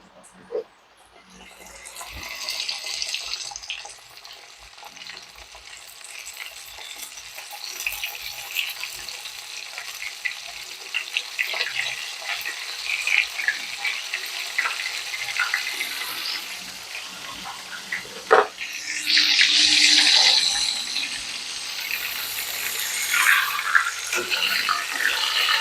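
Venison steaks frying in hot oil in a pan, a steady crackling sizzle that holds across the clip and flares louder with bursts of spattering toward the end, close by and with no talk over it.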